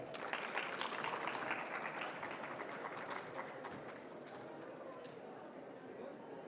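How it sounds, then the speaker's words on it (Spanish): Steady audience clapping at a university conference, moderately distant and fairly even, gradually easing in intensity over several seconds. "Un aplauso, por favor."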